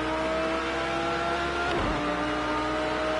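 A Ferrari GT3 race car in Project Cars 2 roars past in an online GT3 championship race, a sustained loud engine drone whose pitch drops sharply as it goes by, with other engine noise continuing under it.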